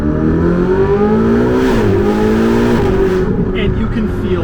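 A Ferrari 488 GTB engine accelerating hard from inside the cabin, a loud, steady, rising drone that dips briefly as it shifts and then climbs again, with a voice talking over it.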